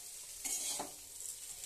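Veg chowmein with beetroot, potato and carrot is stirred as it fries in a pan: a quiet, soft sizzle broken by a few brief scraping stirs.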